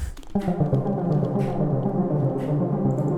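A thick synth stab hits and sustains with a pulsing, sweeping filter movement, dense and busy, with faint brighter swells on top.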